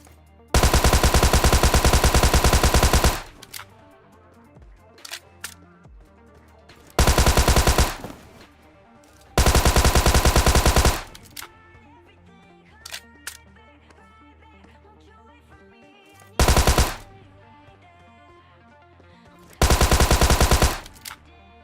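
Tommy gun bursts in the mobile game PUBG Mobile Lite, several long loud sustained volleys of rapid automatic fire separated by quieter gaps with faint distant shots.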